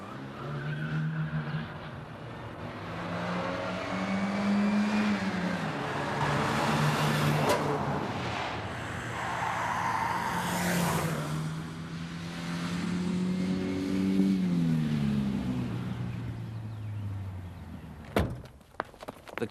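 A stolen Renault car drives off at speed amid shouting on a street, its engine note rising and falling with tyre noise and a clatter near the end, loud and close throughout.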